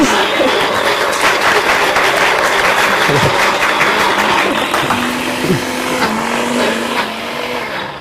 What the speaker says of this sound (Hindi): मैं अपने ब्लेंडर को जब इस तरह की चीज़ों के लिए इस्तेमाल करती हूँ